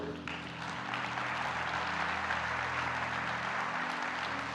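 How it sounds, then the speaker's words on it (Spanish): A church congregation applauds, a soft, fairly distant wash of clapping that stays steady over a low hum of the room. "Dele un aplauso a Dios."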